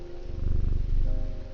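A petted cat in the game Strange Antiquities purrs in a loud, close, rumbling pulse that holds steady for a moment and then deepens slightly.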